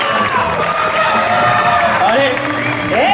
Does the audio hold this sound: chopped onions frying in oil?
no